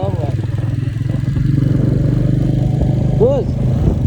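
A motorcycle engine hums steadily on the road to Manang, a close continuous low drone while riding, with brief clatter and a passing tonal sweep near the end.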